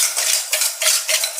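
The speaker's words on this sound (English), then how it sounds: "We're gonna mix that together." Thyme and other seasoning being mixed in a bowl with a utensil, giving a few soft, scraping stirs in quick succession, close and fairly loud, with no talking.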